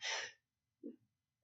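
A single sharp sneeze bursts out loud and close at the start, followed by a couple of softer breathy sounds and short quiet gaps.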